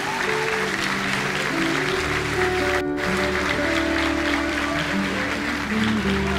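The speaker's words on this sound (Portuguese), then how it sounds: "Uma salva de palmas." A church congregation claps together in a dense, sustained round of applause, loud and steady throughout with faint voices mixed in.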